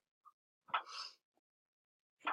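A single person sneezes in an eighth-grade math classroom: a short intake, a sharp burst, then a fainter follow-up, with brief quiet gaps around it and no talk.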